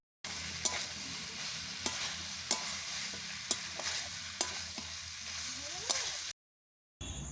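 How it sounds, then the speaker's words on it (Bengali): Fried shrimp being stir-fried with jackfruit and potato in spice paste, a steady sizzle running throughout with sharp periodic clinks of a spatula against the pan, stopping abruptly near the end. "এরপর দেব ভেজে রাখা চিংড়ি মাছ।"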